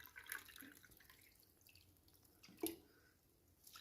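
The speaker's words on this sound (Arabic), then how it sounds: "دابا انا درتها في هذا الكوكوط وغادي ندير عليها الماء" Water is poured into a pressure cooker holding a tomato and pepper salad, a quiet trickling and splashing with a couple of brief louder drops, close by and with no voices.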